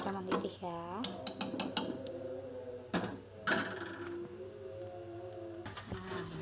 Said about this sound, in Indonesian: Ya, kita aduk sampai mendidih ya.